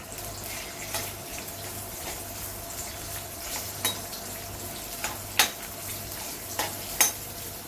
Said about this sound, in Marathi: तेल तापले, त्यामध्ये आपण एक कांदा घेतलाय कापून उभा चिरून